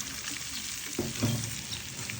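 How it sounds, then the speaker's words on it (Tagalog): Garlic sautés in butter in a pan, a steady soft sizzle with a couple of brief scraping stirs in the middle, no voices. "Sa pinagprituhan, naglagay lang ako dito ng butter, tapos nagisa lang ako dito ng bawang."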